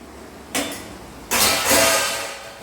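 Metal plates clatter in a home kitchen during daily chores: one sharp ringing clang, then a louder, longer rattle of plates knocking together, close and bright.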